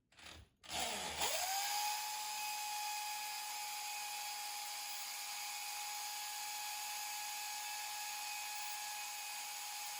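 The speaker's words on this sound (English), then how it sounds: "I'll just get the good drill." A power drill spins up after a couple of quick clicks and then holds a steady high whine at constant speed, close and loud for the rest of the clip, with no voices.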